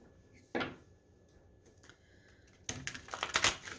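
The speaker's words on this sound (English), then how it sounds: "Get a good shuffle on this." Tarot cards being shuffled in the hands, a quick riffle burst followed by a pause and then a longer flurry of rapid papery snaps and taps, close and clear without speech.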